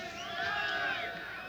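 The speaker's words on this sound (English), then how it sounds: "That cheering that you hear is for the Delta Commando team" Distant crowd cheering for a Delta Commando team, a faint, sustained roar of many voices rising and falling over about a second and a half, with no clear speech.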